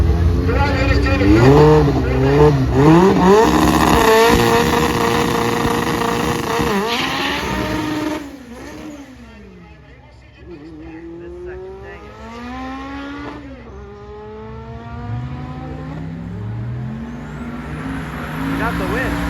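Drag race cars launching down the strip lanes, loud engines revving and climbing through gears with rising and falling pitch, fading into the distance as another car winds up.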